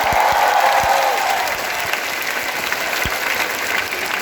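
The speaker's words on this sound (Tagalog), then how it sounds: "Lahat ng masaya, kumaway-kaway at pumalakpak sa Panginoon!" A crowd claps at a Jesus Reigns church celebration in Pangasinan, loud sustained applause filling the hall, with a brief sustained tone near the start before the clapping settles into an even wash.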